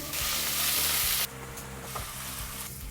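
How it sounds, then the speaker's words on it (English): Bacon sizzles hard in a hot pan for about a second, then the fizzing drops to a quieter crackle with faint scraping. "Okay, we're going to start frying the bacon."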